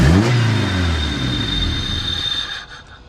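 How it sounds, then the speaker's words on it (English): A Honda car engine revs up sharply under throttle, then settles into a steady rumbling idle with a faint high whine, close and fairly loud, ending with a brief drop-off. "Give it a little gas."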